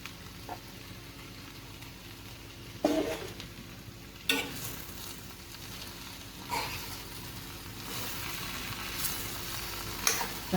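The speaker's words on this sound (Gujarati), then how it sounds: "હવે આપણે આની અંદર ભીંડા એડ કરી અને મિક્સ કરી દઈશું." Okra fries in a hot pan for a potato-okra dish, a steady sizzle punctuated by several louder scraping stirs of a spoon against the pan at irregular intervals, with no talking.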